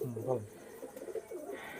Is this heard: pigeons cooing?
yes